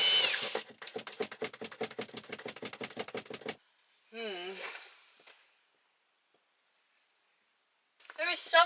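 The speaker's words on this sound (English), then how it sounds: "So I am drilling holes into the roof before I cut a hole in it" Power drill boring holes into a van's metal roof, a rapid rattling burst lasting several seconds, followed by a brief whining spin-down and another short burst after a pause of silence.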